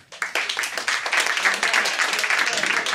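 Audience applause at a stand-up comedy show, a dense burst of many hands clapping that swells quickly and holds steady and loud throughout, with cheering voices mixed in.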